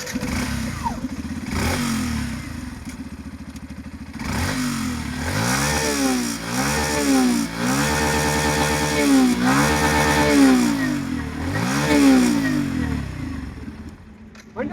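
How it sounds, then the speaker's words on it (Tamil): A Yamaha FZ Rave 150cc motorcycle is revved repeatedly up close, its engine note climbing and falling in a string of sharp throttle blips over a steady idle. "வண்டியோட ரேசிங் நோட் கேளுங்க."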